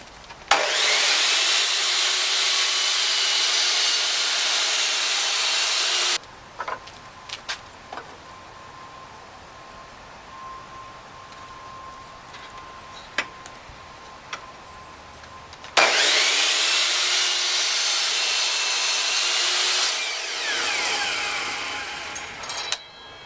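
A saw cuts through a wooden curio shelf piece in two long, loud, steady passes of roughly six and five seconds, separated by a quieter stretch of small knocks and handling.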